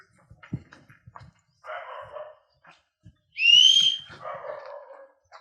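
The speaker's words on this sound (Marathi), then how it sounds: "बघू कोण शिट्टी मारते" A person gives a single sharp, rising whistle about midway, loud and close, among scattered faint knocks and background rustle.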